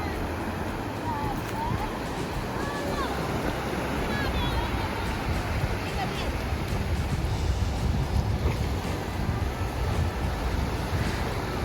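Sea waves breaking at a beach, a continuous broadband wash of surf mixed with wind noise on the microphone, steady and fairly loud throughout with faint distant voices.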